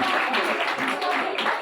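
Audience applause at a Nehru Yuva Kendra mega youth festival prize ceremony in the Mirdha College auditorium, a dense, steady burst of many hands clapping close by, with faint voices mixed in.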